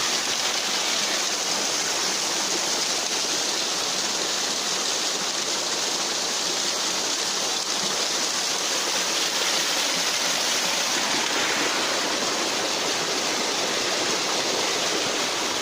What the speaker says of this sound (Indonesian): Ini adalah air terjun kedua yang saya temukan.